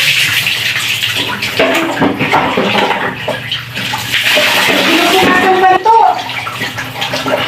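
Warm water pours and splashes steadily while a small dog is bathed, with someone talking over the running water throughout.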